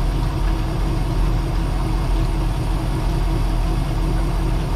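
A boat engine idling steadily just after start-up, a loud, even low rumble with a fast regular chug, running alone without talk.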